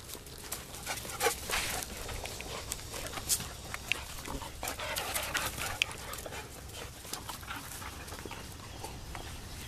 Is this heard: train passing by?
no